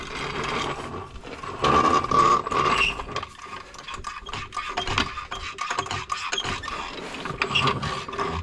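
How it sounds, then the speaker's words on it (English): A 17mm box wrench works loose the oil drain plug on a car, giving steady ratcheting and metallic mechanism clicks with scraping, close and moderately loud without talk. "We'll use a 17mm box wrench to take that, to loosen that drain plug up and get the oil out."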